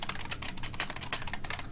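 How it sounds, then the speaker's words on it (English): Rapid, loud clicky keystrokes on a Model M-style mechanical keyboard made for a Mac, with a dense irregular stream of sharp clacks close to the microphone and no talking. "you don't hear me typing?"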